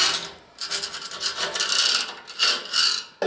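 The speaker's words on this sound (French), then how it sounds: "gratter un petit peu avec un tournevis et autres pour pouvoir en fait enlever l'ancienne colle thermique" A screwdriver scrapes old heat-resistant glue out of the door groove of a wood stove insert. Close, gritty rasping strokes come in uneven bursts, with short pauses between them.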